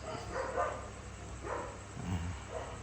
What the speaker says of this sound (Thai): หมาจะเห่ากันเล็กน้อยนะครับ